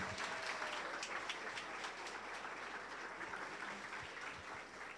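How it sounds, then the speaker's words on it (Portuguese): Audience clapping after a hypnosis comedy show in Curitiba, a steady, fairly even wash of many hands that fades slightly toward the end, with no talking over it. "uma salva de palmas para os nossos astros"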